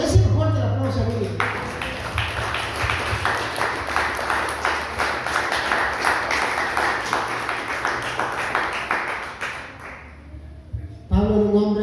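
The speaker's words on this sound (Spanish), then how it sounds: "Ese es el fuerte el aplauso a Dios." A church congregation applauds during a sermon, a sustained burst of rhythmic clapping lasting several seconds between stretches of music and speech.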